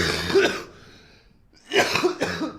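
A person coughs close to the microphone, a rough burst, a brief lull, then two more harsh coughs in quick succession.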